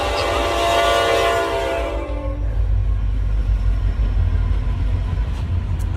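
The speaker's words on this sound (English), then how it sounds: "here comes a train" A train rumbles past close by, a loud horn blast sounding over the heavy low roar for the first two seconds before the horn stops and the rolling rail noise continues steadily.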